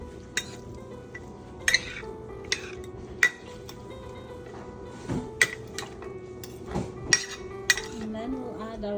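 Green onions and ginger being mixed in a bowl for salmon ceviche, a utensil tapping and clinking against the bowl in scattered sharp knocks over quiet background, close by.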